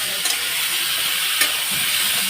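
Fish-head curry fries in a pan while being stirred, with a loud, steady, close sizzle and hiss broken by occasional sharper scrapes of the utensil.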